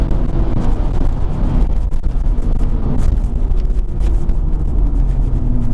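A B5 Audi RS4 Clubsport engine runs hard at about 5,000 rpm, a loud, dense rumbling drone with buffeting wind noise, sustained throughout without pause.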